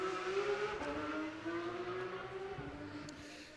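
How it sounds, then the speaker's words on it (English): A loud car passes outside a youth water polo match, its engine tone sliding slowly as it goes by and fading toward the end, with no voices. "quite an obnoxious car going by"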